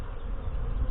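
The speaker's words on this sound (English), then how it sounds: "The bees are getting a little anxious now" Saskatraz honey bees buzzing agitatedly inside an opened hive during an inspection, a close, dense, continuous hum with no voices.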